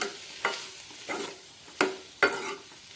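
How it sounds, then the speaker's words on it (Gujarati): Samosa filling stirred with a spoon in a pan: four distinct scraping strokes, spaced unevenly, over a quiet sizzle. "આ રીતે ચમચીથી પહેલાં બધું મિક્સ કરી દેવાનું"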